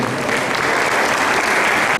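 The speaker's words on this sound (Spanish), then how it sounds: "Recibamos con un fuerte aplauso a Liliana Constante esta mañana." Audience at a morning lecture on Latin American regulation gives a strong round of applause to a speaker, dense continuous clapping filling the room, even and loud, ending abruptly.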